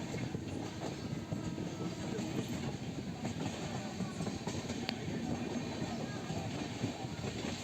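Passenger train slowing on its approach to Veraval Junction, a quiet, continuous rolling rumble of wheels on track with light clatter and scattered squeaks, heard from inside the carriage with a faint voice in the background.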